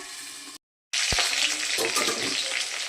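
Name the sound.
fish pieces frying in oil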